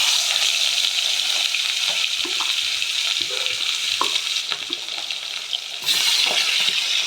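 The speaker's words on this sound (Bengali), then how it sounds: "মাছটা ভেজে নেব।" Fish heads salted and coated with turmeric fry in hot oil, a close, continuous sizzle with occasional clinks and scrapes of stirring.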